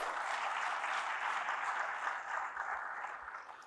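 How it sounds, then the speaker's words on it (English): Sustained audience applause at a warm gathering honoring a longtime friend, a dense even patter of many hands clapping steadily throughout and tapering slightly at the end, with no voices over it. "So let's all give him a round of applause."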